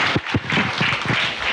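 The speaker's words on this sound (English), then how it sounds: "Another round of applause for the principals, please" Audience applause after a speech at a Kenyan political agreement signing ceremony, a dense, steady wash of clapping from a large crowd, sustained throughout with a few louder individual claps near the start.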